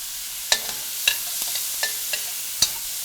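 Chicken and vegetables stir-frying in a pan: a soft, continuous sizzle broken by several distinct scraping clicks of a spoon against the pan at uneven intervals, with no talking.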